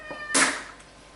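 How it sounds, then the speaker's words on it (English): A house cat lets out one loud, drawn-out meow close by in a home kitchen, rising sharply and fading within a second against quiet room background. "I don't know why the cat's crying."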